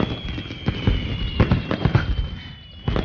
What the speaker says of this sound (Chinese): 是有人在放烟花。